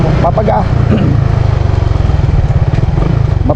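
A motorcycle engine revs with a sharp blip while the rider rev-matches on a downshift from fourth gear, a loud throbbing near exhaust note pulsing rapidly and rising and falling as someone talks over it.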